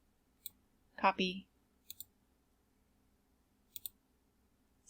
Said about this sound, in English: click the screen, right click, paste, click off, click back on